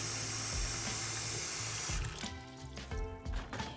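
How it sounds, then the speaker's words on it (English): Tap water runs steadily into a bathroom sink being filled to wash a lace wig, a continuous close rushing hiss that cuts off partway, followed by quieter sloshing and handling sounds. "now that I have enough water in the sink"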